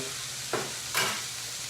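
Steady soft sizzle of grouper frying in olive oil in a pan, with two brief swells as hot oil is spooned over the fish during basting.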